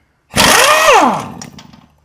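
A power tool, likely an impact wrench, zipping off 19 mm lower ball joint bolts on a 2005 Toyota 4Runner, a single loud close burst with rising then falling pitch, about a second long, trailing into quiet.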